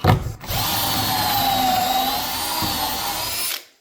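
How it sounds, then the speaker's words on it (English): A power drill bores pocket holes into wood for a corner plant shelf, one sustained whining run of about three seconds, close and loud, then abruptly stopping. "Alright, so there's all of our pocket holes drilled up."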